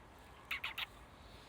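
Three quick, harsh bird calls in a row, moderately faint against a quiet outdoor background.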